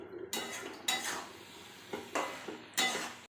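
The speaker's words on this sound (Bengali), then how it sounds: "এবার ঢাকাটা খুলে আমি দেখব হয়েছে কিনা।" A lid clanks and rattles as it is lifted off a cooking pot of mixed-vegetable chorchori, several close metallic knocks and scrapes in separate bursts, then sudden quiet.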